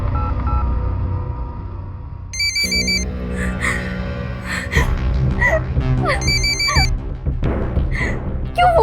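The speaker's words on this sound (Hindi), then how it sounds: "क्यों फोन कर रहे हो मुझे बार बार?" A telephone ringing in a tense TV drama scene, its electronic ring chiming in two short bursts over background music and dramatic sound effects.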